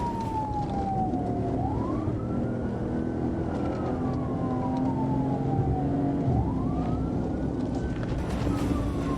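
A police car siren wails during a pursuit, rising and falling in slow sweeps over steady road and engine noise, loud and close with no talk.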